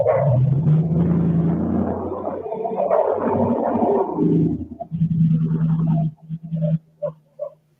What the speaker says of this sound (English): See that dog bark?